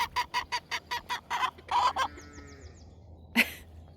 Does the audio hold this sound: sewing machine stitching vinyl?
no